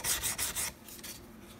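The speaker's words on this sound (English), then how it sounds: "Before I put the strings on, I'm going to hit this real fast with some sandpaper, 600," 600 grit sandpaper rubbed over a Strat guitar part, four quick close rasping strokes followed by softer, fainter rubs, with no voices.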